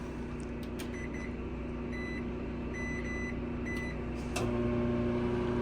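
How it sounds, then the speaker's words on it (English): A microwave hums steadily inside an RV running on generator power, with faint beeps scattered through and a louder, fuller hum as something kicks in near the end. "the generator is going to kick in and the microwave will come on"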